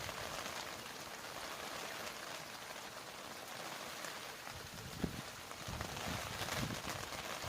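Steady rain patters on surfaces and a fish pond, a dense continuous hiss with occasional louder drips, no voices.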